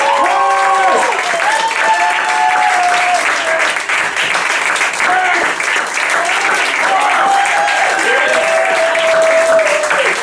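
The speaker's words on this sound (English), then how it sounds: "Can you please put your hands together? Come on, make some noise." Crowd applause for a street performer at an outdoor festival, sustained and loud for the full stretch, with whistles and cheers rising through the clapping.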